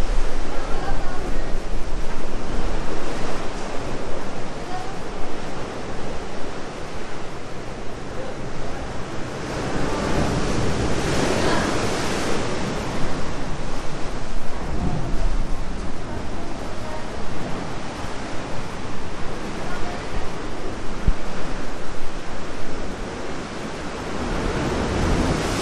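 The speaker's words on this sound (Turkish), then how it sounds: "Burada dalgalara biraz dikkat edeceğiz arkadaşlar." Ocean waves break and wash onto a beach in Bali, Indonesia, a continuous loud roar of surf mixed with wind noise against the microphone, close and without let-up for the whole stretch.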